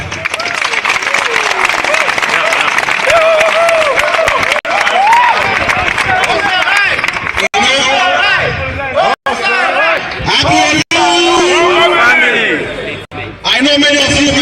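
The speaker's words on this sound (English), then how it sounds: "let's give applause to them" Applause and cheering from a crowd at a public gathering, sustained dense clapping mixed with voices and babble, loud and close, with brief dropouts.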